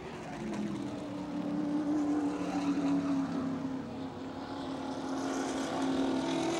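Race cars at Baer Field Speedway during the 2013 Three Rivers Festival 100, a loud continuous engine roar swelling and easing as cars spin and circle the oval.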